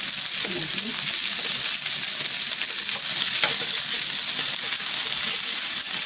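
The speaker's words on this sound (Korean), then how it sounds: "김치도 너무 바짝 구우면 찔려서 맛이 없으니까 약간 우리 평소에 먹는 그 정도로 구우시면 돼요." Kimchi and beef sirloin sizzle steadily in a hot pan, a loud, even hiss of frying that holds for several seconds, with occasional soft stirring taps and no talking.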